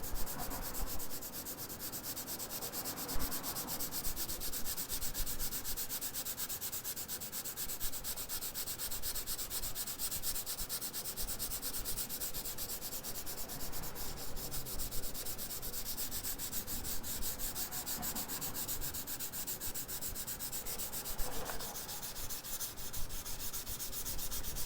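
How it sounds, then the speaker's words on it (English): Steady, even sandpaper rubbing on the painted steel bed of a dentside Ford truck with 320 grit, a light continuous scratchy hiss running throughout at close range with no talking. "Very lightly sanding right now."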